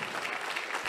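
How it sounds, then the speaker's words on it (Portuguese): Brief burst of church congregation applause, a dense even patter of many hands at moderate level with no voices. "Aplaude ele, aplaude."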